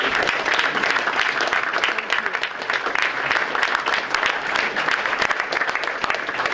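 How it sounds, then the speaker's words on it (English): A school board meeting audience claps for parents in sustained, even applause that fills the room throughout. "give your parents a round of applause for the sacrifices they made"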